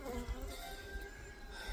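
Caucasian honey bees buzz steadily around an open hive during queen grafting, a dense close drone filling the clip with brief low bumps as frames are handled.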